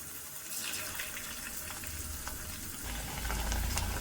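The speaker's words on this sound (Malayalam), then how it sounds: "അപ്പോൾ ചൂടായ ഓയിലിലേക്ക് നമ്മൾ ചിക്കൻ ഇട്ട് കൊടുക്കുകയാണ്." Chicken pieces dropped into hot oil, frying with a steady close hiss and crackle that swells slightly toward the end, no talking.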